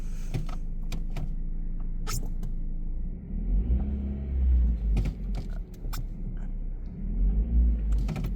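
A Ford Focus driving in gear from inside the cabin, with a steady low engine rumble and drivetrain drone that swells louder midway, broken by a few brief clicks and knocks.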